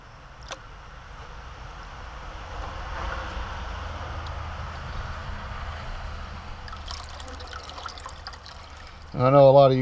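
Water pours steadily over gold paydirt from a Krums bag, a continuous close wash and trickle that runs throughout, ending with a louder burst of splashing and tumbling.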